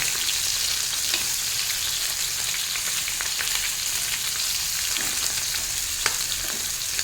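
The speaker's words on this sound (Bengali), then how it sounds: "মাছগুলো ভাজা হয়ে গেছে আর ভাজবো না এবার তুলে নেব" Small fish fry in a pan with a steady, close, dense sizzle and scattered crackling, a few sharper pops near the end; no voices are heard.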